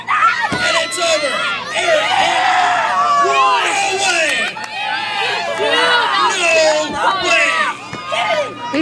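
A wrestling crowd at a live championship match roars and shouts continuously, loud and close, with high excited screams and children's voices in the mix and people talking throughout.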